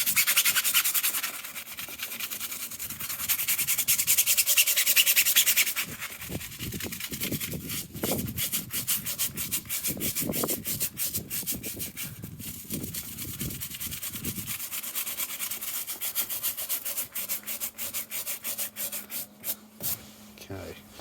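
A brush scrubs a car tyre coated with graphene acrylic tyre shine, close rubbing strokes, first a steady hiss, then rapid back-and-forth scraping that ends in quick short strokes.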